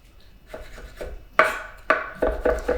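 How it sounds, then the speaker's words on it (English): A knife slices through a preserved lemon on a board, making a series of about five soft, close cutting strokes that are irregularly spaced and grow slightly sharper as the slicing goes on. "I'm just going to slice up that lemon"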